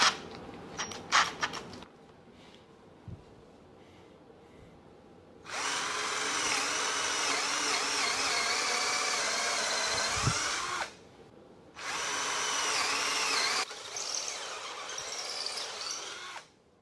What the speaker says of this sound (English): Best way I know to test out this drill, I got a 4x4 post.